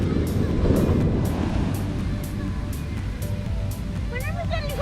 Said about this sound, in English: the waves have been coming up and over